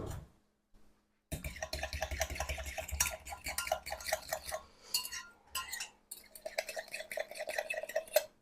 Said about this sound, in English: Let me grab a fork and stir that up.